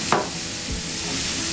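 Paneer and vegetables being stirred in a pan for noodles with peanut sauce, giving a short scraping sweep near the start and a soft low scrape later over a steady faint sizzle.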